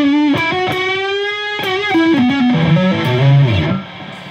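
Electric guitar lead line played on the neck through a Caline Enchanted Tone overdrive pedal, a continuous run of sustained, bending notes with a slight drive, loud and up close, ending in a held low note that fades out.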